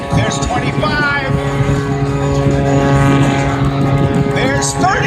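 Rob Holland's stunt plane holds a near-stationary hover at an air show, its propeller engine droning loud and steady with a sustained tonal whine while an announcer talks over it and a crowd murmurs.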